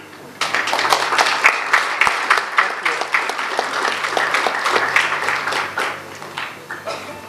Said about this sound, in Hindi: मैं आप तमाम लोगों की भरपूर तालियों में बुलाना चाहूँगा